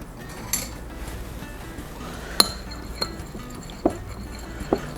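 A margarita with simple syrup is stirred in a glass, giving a handful of sharp, light clinks spaced a second or so apart over a quiet background hiss, close up.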